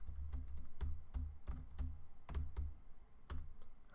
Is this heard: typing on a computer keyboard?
yes